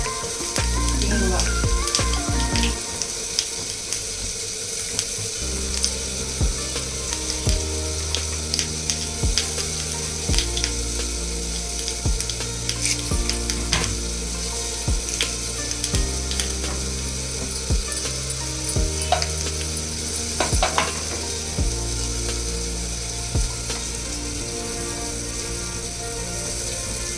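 Fenugreek seeds, dried red chillies, asafoetida and dals fry in a pan over low heat for chutney, giving a steady close sizzle broken by repeated scraping and stirring clatter, with no talking.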